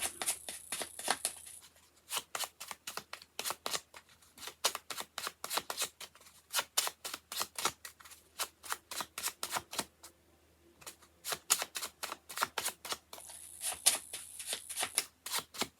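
Tarot cards are shuffled in rapid riffling bursts, crisp repeated flicks in quick runs with brief pauses between, close and clear.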